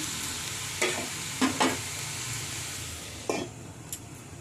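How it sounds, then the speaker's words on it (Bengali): A mixture sizzles in a cooking pan as it is stirred, with a steady frying hiss and a few distinct scrapes and knocks of a spoon against the pan. "এবার এই মিশ্রণটাকে একসঙ্গে মিশিয়ে ভালো করে একটু নাড়াচাড়া করে আমি ঢাকা দেবো কিছুক্ষণের জন্য।"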